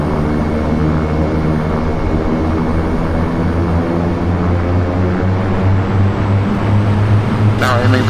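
A King Air B200 turboprop rolls for takeoff in Flight Simulator 2004, its propeller engines giving a loud, steady droning hum with a low buzzing tone throughout, and a brief higher whine near the end.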